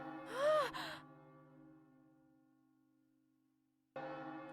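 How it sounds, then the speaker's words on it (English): Bell ringing in the video game Another Code, a single loud struck tone with a long, slowly fading sustain, followed by a sudden return of ambient game sound; no talking. "Ah, it's just a bell."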